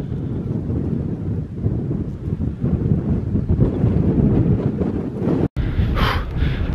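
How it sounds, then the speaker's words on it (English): Strong wind roars steadily across open hills in the Yorkshire Dales on a bitterly cold day, buffeting the microphone with constant loud gusts, alone with no voices. "it is bitingly cold and it's really windy"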